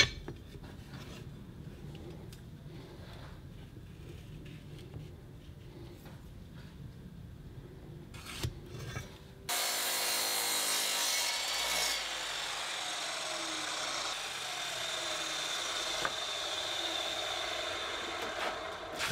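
Wooden holders are shortened by hand: quiet rubbing rasp strokes at first, then louder, continuous sawing or power-tool cutting of the wood that fills the rest of the clip.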